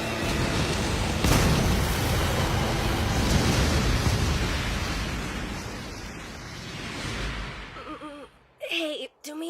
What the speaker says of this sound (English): The item's gonna detonate!